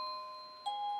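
A wireless doorbell gives a clean electronic chime: a steady tone, then a brighter second note, faint and alone.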